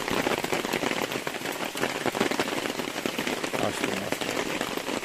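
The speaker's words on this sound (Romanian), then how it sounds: "N-am avut parte nici de o zi fără ploaie, băieți." Rain pattering steadily on surfaces and an umbrella during carp fishing on the Dniester river, a dense continuous patter close by, with someone speaking briefly over it.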